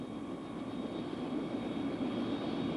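Bell OH-58 helicopter turbine engine and rotor running during startup, a steady broadband roar and whine with a thin high tone, close and continuous throughout.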